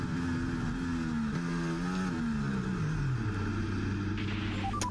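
A Formula 1 car in the video game F1 24 drones loudly and steadily as it runs off onto gravel, its engine pitch stepping down as it slows, with a brief higher chirp near the end.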